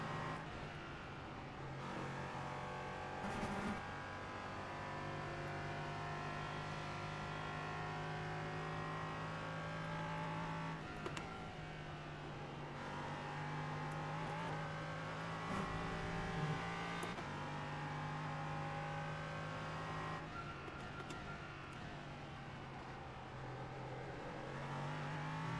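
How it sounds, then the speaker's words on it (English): LMP3 and GT4 race cars at Oulton Park in iRacing, a close engine drone rising and falling through gear changes with shifts and revs, steady and loud for the whole stretch, with other cars' engines mixed in and no talk. "One more GT4 coming up, and then we got slower class car ahead."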